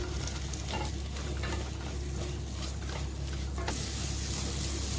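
Onion, ginger, garlic and green chilli frying in oil in a pan for shahi paneer, a dense steady sizzle with light stirring scrapes, close and even throughout, no voices.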